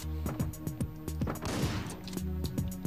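Rapid bursts of shotgun fire in the video game Hotline Miami, several loud sharp shots in quick succession with a heavier blast in the middle.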